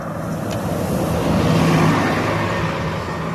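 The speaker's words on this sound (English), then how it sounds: "Hold up, bus roll by." A bus rolls past outdoors, a steady, loud low road rumble that swells slightly in the middle and fades, with no talking over it.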